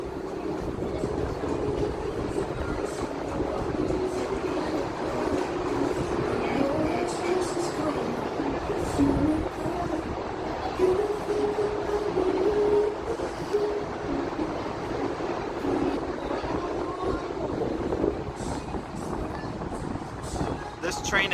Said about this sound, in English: This train is Union Pacific.